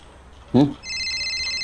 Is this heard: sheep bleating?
no